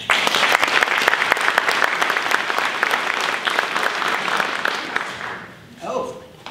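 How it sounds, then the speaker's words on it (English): An audience at a catered event with the Virginia Governor in Manassas claps steadily for several seconds, then the applause fades out and a voice briefly starts speaking at the end. "how about a good round of applause for the food today"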